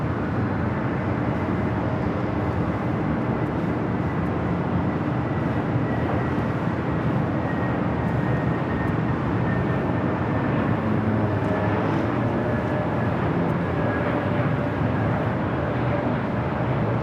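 A JetBlue Airbus A321neo arriving at Los Angeles airport, heard as a steady, broad engine roar that holds evenly throughout, with no talking.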